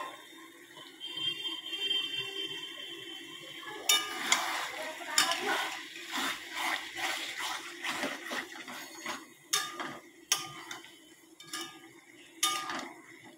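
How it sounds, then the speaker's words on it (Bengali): Lemon-juice-marinated chicken dropped into hot spiced oil, a soft steady sizzle at first, then louder crackling with repeated sharp clatters of stirring and utensil knocks against the pan, close by and with no talking. "সেই লেবুর রস মাখা চিকেনটা আমি ছেড়ে দিলাম।"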